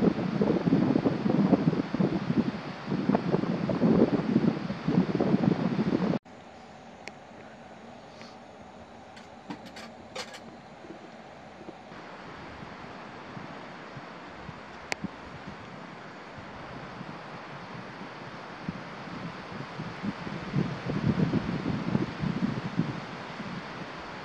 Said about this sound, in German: deutlich mehr Wind als gestern.